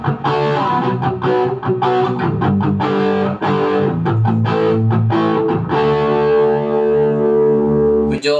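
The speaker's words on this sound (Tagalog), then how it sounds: "So try naman natin kapag naka-distortion." Electric guitar played through a Joyo American Sound pedal with distortion engaged: loud, buzzy strummed chords with sharp attacks, ending in one long sustained chord with a slightly thin, tinny edge.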